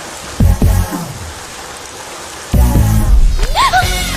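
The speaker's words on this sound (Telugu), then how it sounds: "వర్షం పడుతుంది" Steady rain falls in a continuous hiss, with sharp noisy bursts and brief voices breaking in over the downpour.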